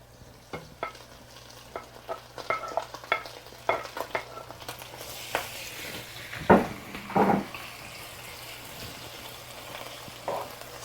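Prosciutto fries in a pan with browned mushrooms while being stirred and tossed, a soft sizzle under repeated scraping and clattering utensil hits, several sharper knocks near the middle.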